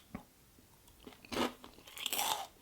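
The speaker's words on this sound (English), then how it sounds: "That's a nice crunch." A chocolate-covered salty snack from a German supermarket, similar to chocolate-covered pretzels, is bitten and chewed close up, giving a couple of distinct crisp crunches with quieter chewing between them.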